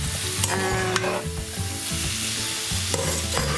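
Chicken pasta sauce sizzles steadily in a pan while a spoon stirs it, with a few sharper scraping knocks against the pan over the continuous frying hiss.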